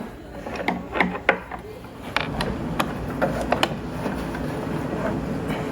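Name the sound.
antique gramophone spring motor winding out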